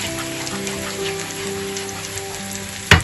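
Onions sizzle in a pan while lasagne is being made, a steady crackling hiss like light rain, with a soft clatter near the end.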